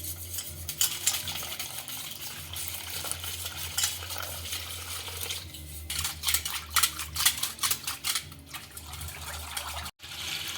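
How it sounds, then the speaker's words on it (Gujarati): Gram flour batter mixed with sour buttermilk is stirred in a bowl, giving soft, wet swishing and light scraping strokes that come and go, close and fairly quiet. "અને તેને સારી રીતે ગાંઠા ન પડે તેવી રીતે આપણે તેને મિક્સ કરી લેશું।"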